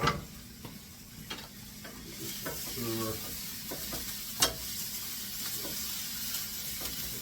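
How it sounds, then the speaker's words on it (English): Garlic fries in a pan for homemade meatballs, giving a steady low sizzle with stirring clatter and a sharp utensil knock near the middle. "Throw the garlic in there, and"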